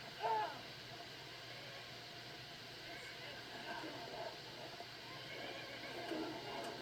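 A horse in Skyrim whinnies briefly at the very start, then a steady, noisy game backdrop continues with no further calls.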